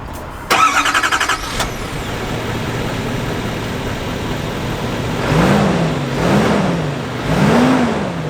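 A 2020 Chevy 3500 LTZ Duramax diesel truck with a 10-speed automatic drives off after a brief clatter, its engine note rising and falling in several swells as it shifts through gears, moderately close with no talk.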